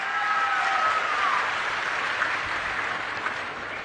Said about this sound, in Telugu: మంచి ప్రభుత్వం అయితే గట్టిగా చప్పట్లు కూడా చెప్పండి